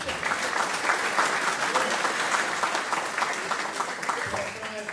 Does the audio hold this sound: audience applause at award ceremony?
yes